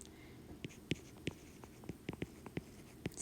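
Notes written by hand during a physics lesson, a quiet scratch of pen or marker with small irregular taps and strokes over a faint room hum, no talking.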